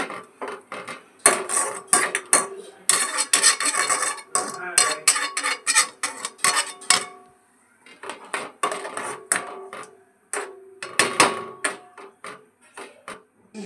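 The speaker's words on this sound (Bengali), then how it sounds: "এবার একটু নেড়ে চেড়ে দেব, ভালো করে সব মিশিয়ে নেব।" Food being stirred and mixed in a pan after water is added, heard as repeated close metallic scraping and clanking of a utensil against the pan in irregular bursts with short pauses.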